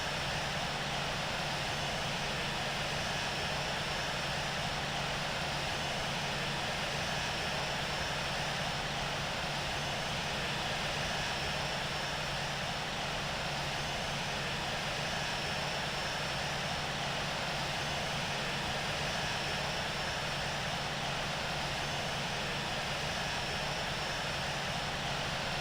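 Boeing 787-8 jet engines in the flight simulator game Infinite Flight on a Kenya Airways route from Johannesburg to Nairobi, holding a steady, even cabin drone with a faint high whine for the whole stretch.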